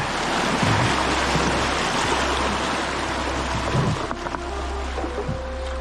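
Rushing whitewater on a wilderness river in the Yukon during a canoe trip, a loud broad continuous roar of churning water with low wind rumble, steady throughout with a slight dip near the end.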